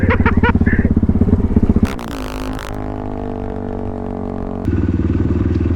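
A Geon GNS 300R enduro motorcycle runs close with a rhythmic, chugging single-cylinder pulse, then revs into a higher, steadier drone with a brief clattering burst between.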